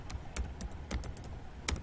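Keystrokes on a computer keyboard while entering a date into an Excel spreadsheet: about six or seven separate, crisp taps at an irregular pace, close and clear, with no voices.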